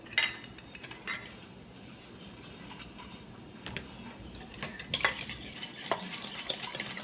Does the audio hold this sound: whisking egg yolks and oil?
yes